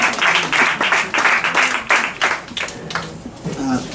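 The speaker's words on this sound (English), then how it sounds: "Let's give him a hand and clap as he comes" Audience applause greets an imam arriving to give a message of hope, a steady wash of clapping with pulsing bursts running throughout, fairly close and loud, with some voices mixed in.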